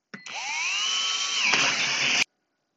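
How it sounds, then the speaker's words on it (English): A power drill whines steadily for about two seconds while boring a hole in a plastic pot for a hydroponic net cup, its pitch dipping briefly as the bit breaks through before stopping abruptly. "I'm now just going to drill two holes for two net cups at the rear of the pot"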